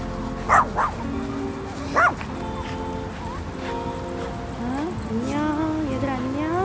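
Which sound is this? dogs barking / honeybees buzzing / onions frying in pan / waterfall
dogs barking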